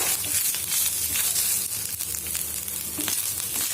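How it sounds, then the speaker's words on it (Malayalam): Grated coconut sautés with curry leaves in a pan for a Palakkad-style erissery, giving a constant loud sizzle with occasional crackles and faint stirring scrapes, no talking. "ഇതെല്ലാം കൂടിയിട്ട് നന്നായിട്ടൊന്ന് വഴറ്റി കൊടുക്കുക"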